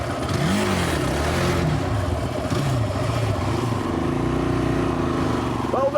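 A Honda quad bike's single-cylinder 450cc engine revs loudly and continuously up close, its pitch rising and falling through gear changes, with faint voices underneath.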